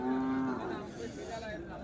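A cow moos at a cattle market in Kundarapalli, a long, loud, low call that drops in pitch, set in a busy, noisy crowd where people murmur.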